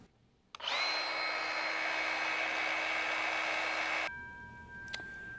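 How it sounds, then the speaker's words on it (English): Power saw making a 1-inch rip pass in stock for squares for quick-disconnect splitter mounts on a Corvette time attack car, a loud steady whine lasting about three and a half seconds before cutting off. "We got a 1-inch cut off the guide of the saw, and we'll make that pass"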